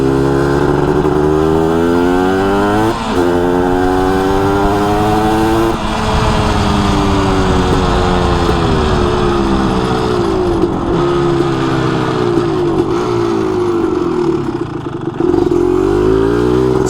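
A Kawasaki-style 250R motorcycle engine on a first ride, revving up loud and close with rising and falling pitch sweeps as it accelerates through gears, continuous for the whole stretch with no talk.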